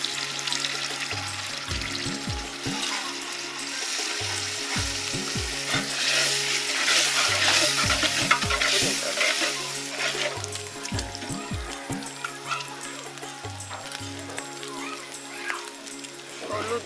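A ginger and spice masala for a fish and arum root dish sizzles loudly in a pan after a splash of water, with a continuous bubbling hiss and repeated scraping stirs throughout.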